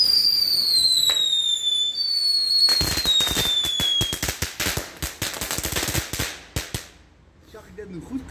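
Aldi consumer fireworks are set off outdoors: whistling rockets rise, then a dense, irregular barrage of sharp crackling bangs follows, loud and close, before fading out.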